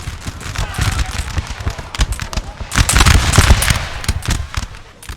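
Dense, crackling musket volleys from Napoleon: Total War's 1813 Battle of Ordal pop in ragged rolling bursts, loud and sustained, with a heavier surge of shots midway.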